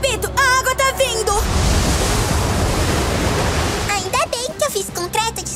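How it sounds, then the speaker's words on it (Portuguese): A surge of rushing water in a children's cartoon builds into a loud, steady roar that fills several seconds, with character voices before and after it. "Eu repito, a água tá vindo!"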